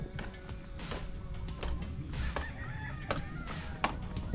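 Chickens cluck around a rural Philippine yard with a rooster crowing among them, scattered short calls over faint outdoor background noise.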